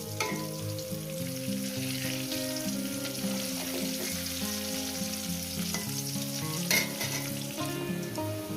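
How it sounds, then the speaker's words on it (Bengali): Potatoes frying in oil give a steady, fairly quiet sizzle and crackle, with faint clinks and stirring noises over a low tonal hum in the background. "আলুগুলো আমার ভাজা হয়ে গেছে"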